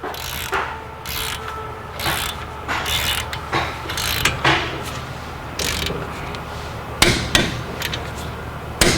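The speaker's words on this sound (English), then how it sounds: "Now we're gonna torque the second one." A torque wrench tightens a brake caliper bracket bolt on a Hyundai Elantra. Repeated sharp ratcheting clicks come in bursts over several seconds, loud and near, with no talking.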